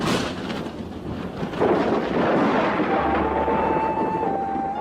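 Distant thunder of an approaching storm rolls over hills as a continuous low rumble, steady and fairly loud, with no talk.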